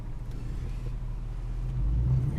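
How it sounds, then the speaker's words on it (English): A vehicle drives along a haul road at an open pit gold mine, a steady low engine rumble that swells slightly louder toward the end, with no talk. "Let me drive down here a little bit further"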